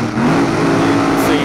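A high-horsepower ANDRA drag racing car, the Ambrosi 20 with a low wheelie bar setup, launching at Adelaide; a loud, close, rough engine roar holds steady through the short burst.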